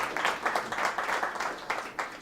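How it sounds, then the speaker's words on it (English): Audience at a CreativeMornings Palm Beach talk giving a round of applause for Yulia, a brief burst of distinct, rhythmic hand claps from a modest crowd in a room. "So a round of applause for Yulia."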